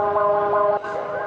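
An earthquake warning siren wails from public loudspeakers during the annual Mexico City earthquake drill. It is a steady, loud electronic tone with a slight waver that drops and shifts pitch near the end.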